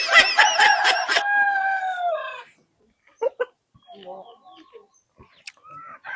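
A loud, close gamecock crow rings out for about two seconds, followed by quieter clucks and scattered rustling.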